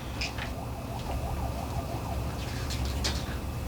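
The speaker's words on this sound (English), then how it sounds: "God, I've heard that siren before." A faint wailing siren rises and falls in the distance beneath a steady hum of background noise.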